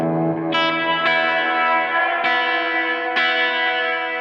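An electric guitar rings out through a Strymon Blue Sky reverb pedal, four or five strummed chords each blooming into a long, lush wash that sustains and overlaps the next, played alone without talk.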